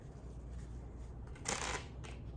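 A brief, quiet shuffle of a card deck, with a soft riffling burst midway through, close by and faint.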